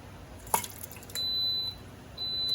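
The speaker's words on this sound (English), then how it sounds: "And you're going to hear that beep." An Instant Pot switched on to sauté mode gives a soft click, then a steady high electronic beep lasting about half a second, followed by a second beep that is cut off at the end.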